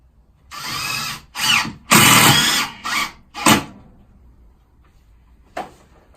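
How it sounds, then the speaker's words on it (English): A power drill drives long screws into thermalite blocks during a boiler installation, with five loud bursts of whirring, the first few close together and the middle one longest, then a short final burst after a quiet pause. "And I'll just screw in wherever I want, and it's nice and really easy"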